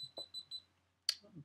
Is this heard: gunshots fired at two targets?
no